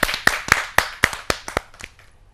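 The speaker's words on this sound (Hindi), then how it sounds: "तो जोरदार तालियों के साथ स्वागत।" An audience at a Hindi poetry gathering claps to welcome a poet, about ten sharp, distinct claps in a steady rhythm that fade out toward the end.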